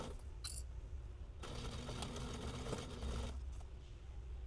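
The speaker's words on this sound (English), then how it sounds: "Sew so that your needle lands about 1/8 of an inch from the edge of the Grosgrain." A Sailrite sewing machine stitches grosgrain binding along the edge of a waxed canvas fanny pack: a quiet rattling run of stitching for about two seconds mid-stretch, framed by faint handling noises and no talk.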